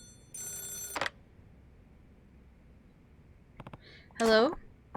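A telephone rings in the video game Yakuza 0, a bright trilling ring in a short burst near the start, followed by brief sounds and a voice speaking.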